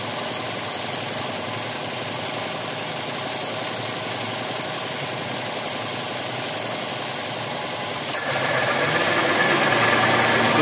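The worn AC compressor of a Toyota Vios Gen 4 runs with a harsh, gritty mechanical drone under engine idle. Near the end a sharp click is followed by a louder, rougher hum.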